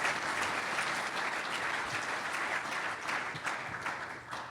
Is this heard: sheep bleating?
no